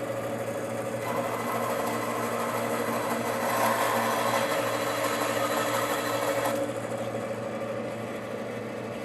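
Bandsaw in a workshop running steadily while cutting a workpiece fitted with brass, a continuous mechanical hum with a brighter, louder stretch as the blade bites in the middle, close and without speech.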